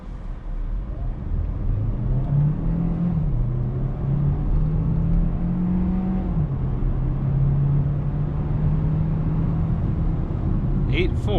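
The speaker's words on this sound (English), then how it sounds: "So we're gonna do 0 to 60 again, this time in sport mode." Engine of a 2022 Hyundai Tucson Hybrid Limited in sport mode pulling hard from 0 to 60, a loud, steady interior drone that rises and shifts in pitch through gear changes, with no talk over it.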